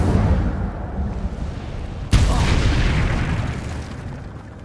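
An Incendio fire spell is cast in a Hogwarts wizarding game, giving one sharp burst that flares into a roaring rush and then slowly fades. A low rumble runs beneath it and a voice is heard nearby.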